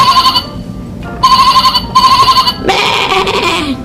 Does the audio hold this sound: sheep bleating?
yes